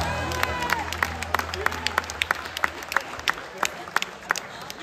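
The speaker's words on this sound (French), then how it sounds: "On peut les applaudir très très fort." Crowd applauding an under-20 basketball team during team introductions before a cup final, sharp individual claps ringing out over a hall ambience, with a lingering tone fading at the start.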